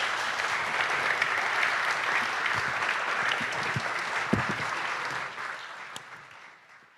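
An audience claps for everyone on stage, dense sustained applause from a sizeable crowd that holds steady and then tapers off toward the end, with no talk over it.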